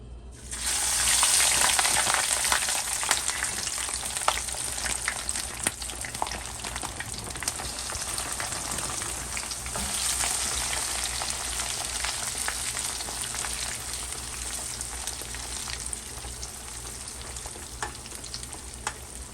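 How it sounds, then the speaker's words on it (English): Seasoned French fries deep frying in about two cups of oil in a skillet, a loud, dense, continuous bubbling sizzle that holds steady close up for the whole stretch, with no voices. "we're just gonna let the fries cook"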